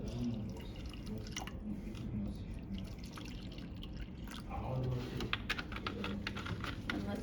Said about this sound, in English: I'm gonna pour some water into these cups.